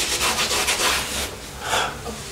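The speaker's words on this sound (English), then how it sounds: "let's just give everything a bit of a wipe down" A cloth or pad rubs across shower wall tiles to clear away debris, giving several quick rasping strokes, then a pause and one more swipe, close and fairly loud.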